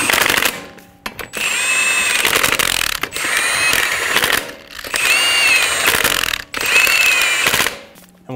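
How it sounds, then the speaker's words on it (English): Lug nuts on a front wheel of a 2007-2011 Toyota Camry are snugged down with a power tool, giving several close, loud bursts of rapid ratcheting rattle with whining tones. The bursts come in about four runs, separated by short pauses. "Snug down the lug nuts."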